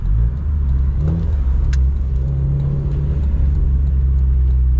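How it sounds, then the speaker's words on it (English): A car engine rumbles steadily nearby, a low continuous drone with a slight rev, no voices over it, heard from a Mazda MX-5 driving on roads in Wales. "There's a really nice car behind."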